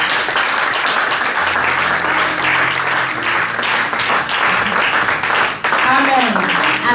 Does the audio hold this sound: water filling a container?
no